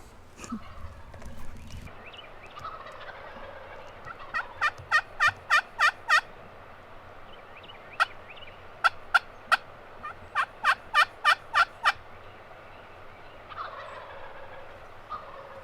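Wild turkeys gobble in loud rattling bursts from a short distance, several calls overlapping in quick succession against quiet outdoor background during a spring turkey hunt.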